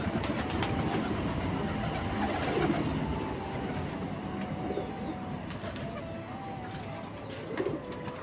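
Pigeons coo in soft, repeated low calls over a constant rumbling, noisy background, with the birds fairly close but partly masked.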